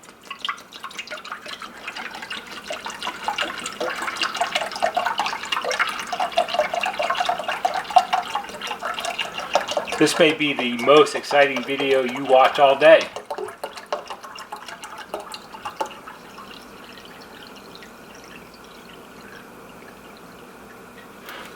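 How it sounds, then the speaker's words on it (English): Water pours steadily into a small ultrasonic cleaner tank with a trickling, splashing sound for a few seconds, while a person talks throughout. "I'm going to fill it up with water, and we'll see how much it really holds"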